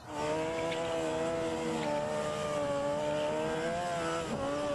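A toy racing motorcycle gives off an electronic engine-revving sound, a steady buzzing whine with shifting pitch that holds loud and continuous for several seconds.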